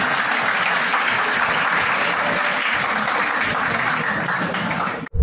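Dense, steady applause from a large audience, loud and continuous for several seconds before cutting off abruptly at the end.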